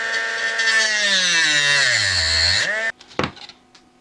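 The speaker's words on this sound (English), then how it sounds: "So now I'm going to cut more of these little fiberglass pins." A small rotary power tool whines steadily while cutting tiny fiberglass pins for a handmade swimbait, its pitch sagging under load before it stops abruptly, followed by a couple of brief clicks and knocks.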